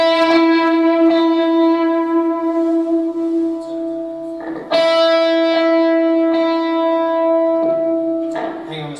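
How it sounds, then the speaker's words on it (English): Distorted electric guitar through a pitch-shifting harmonizer set to a major third, sounding sustained, harmonized notes with a few note changes, close and loud, with brief talk in between. "If you've got one harmonizer set to a major third, it's going to sound very sickly after a while."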